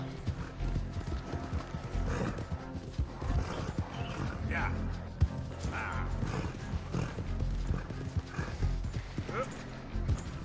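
Horse hooves clip-clop steadily in the Red Dead Redemption 2 video game, with a whinny and mechanical clicks over a low game rumble, as people talk underneath.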